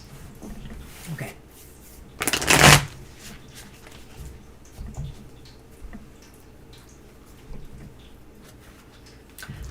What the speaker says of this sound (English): we're both going to shuffle and cut.